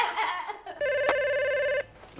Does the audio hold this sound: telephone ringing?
yes